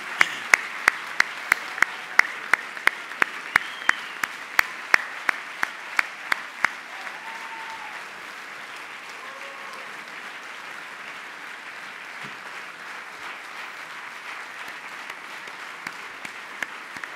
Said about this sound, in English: Congratulations, special round of applause.